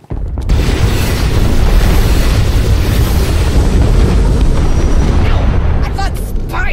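Cannon fire in Star Wars: The Old Republic, a loud, sustained roar of booming blasts filling the whole stretch, with brief whooshing effects near the end.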